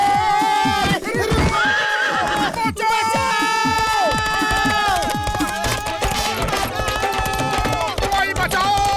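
In an animated Hindi children's cartoon, a horse neighs loudly and repeatedly over quick clip-clopping hooves, with busy crowd-like background noise throughout.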